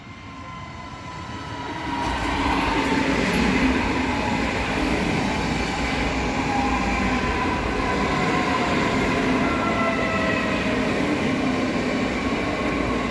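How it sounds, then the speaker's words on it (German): An S-Bahn commuter train on the S8 line toward the airport passes close by, with a steady, loud rumble of wheels and motors that swells after a couple of seconds and then holds. "Es kommt noch ein nächster S-Bahn."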